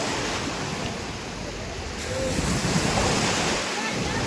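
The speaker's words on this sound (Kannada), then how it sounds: "ಸಮುದ್ರಾಗ ಬರ್ತಾವಲ್ಲ ವೇವ್ ಆ ಟೈಪ್ ಇವ್ರು ಮಷಿನ್ಲಿ ಮಾಡ್ತಾರೆ" Machine-made waves in a water park wave pool, a continuous broadband wash of surf that swells louder midway, with wind buffeting the microphone and faint voices in the background.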